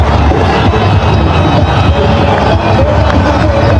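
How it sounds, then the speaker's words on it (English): A cricket stadium crowd roars loudly and continuously after a boundary in a Pakistan vs Sri Lanka T20 international, a dense wall of cheering and whoops. "The roar in the crowd tell you all about that one."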